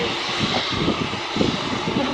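Boeing 787 Dreamliner jet at Manchester Airport's Runway Park, a steady loud engine roar with a broad rushing hiss and pulsing low rumble.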